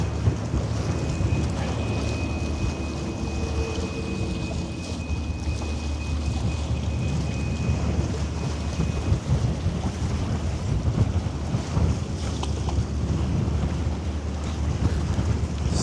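A ferry turns away from the pier. A low, steady engine rumble runs throughout beneath heavy wind buffeting the microphone, with no voices.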